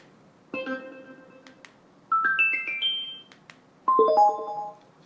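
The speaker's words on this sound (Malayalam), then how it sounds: "കണ്ടോ മൂന്ന് വ്യത്യസ്ത ടോണുകൾ അതായത് ഇൻപുട്ടുകൾ മാറുന്നതനുസരിച്ചിട്ട് ആ ടോൺ മാറുന്നുണ്ട്" A budget soundbar with a subwoofer plays three separate chiming notification tones as its inputs are switched, each a short melodic phrase, clear and alone against near silence.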